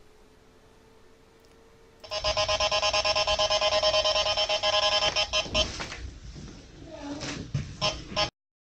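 A played-back EVP recording gives a loud, steady electronic beeping tone that runs for several seconds after a quiet start, then breaks into shorter stuttering bursts before cutting off abruptly.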